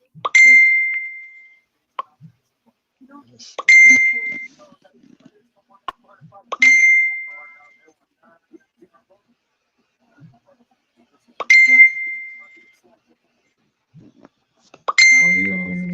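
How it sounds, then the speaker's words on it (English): Electronic beep tone repeating five times at irregular intervals of a few seconds, each a clean, bright ding that rings briefly and stops, loud and close over near silence. "Because it keep beeping,"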